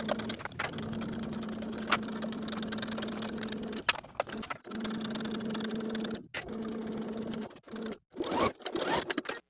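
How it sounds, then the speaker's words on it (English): A sewing machine stitches a facing onto a skirt in steady humming runs, stopping and starting several times with brief pauses and fabric handling between bursts, moderately close. "Then sew your facing to the skirt all the way around with a 5/8 inch seam allowance."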